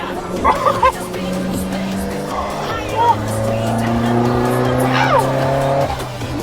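A 2016 Isuzu D-Max 1.9 Hilander cab pickup corners hard, its tires squealing in drawn-out tones over a loud engine. Voices talk and exclaim from inside the cab over the noise.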